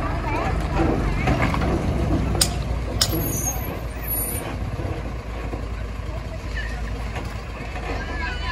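A garbage truck arrives with a steady heavy engine rumble, and two short sharp air-brake hisses cut through it partway along, under people talking nearby.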